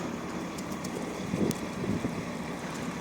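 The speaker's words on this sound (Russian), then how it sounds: "Ветер дует." Wind blows at a road construction site, a steady rough rumble against the microphone with a gust swelling near the middle, loud and close, with no talk.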